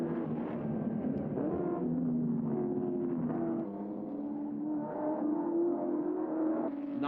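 Group A VK Commodore race cars in the 1986 James Hardie 1000 at Bathurst, with Allan Grice's car leading, produce a steady, droning engine roar that rises and falls slightly, moderately distant, with no talk over it.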